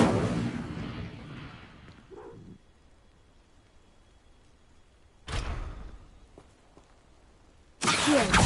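A fire spell cast with Incendio gives off a sudden broadband blast that trails away over about two seconds, and two more abrupt whooshing bursts follow later, loud and close, with no talking.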